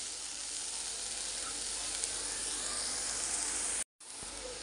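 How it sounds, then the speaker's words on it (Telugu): Onions with salt and turmeric frying in a pan: a steady, even sizzle that stays close and continuous, broken only by a moment of silence near the end. "మగ్గేదాకా వేయించుకోండి దగ్గరుండి."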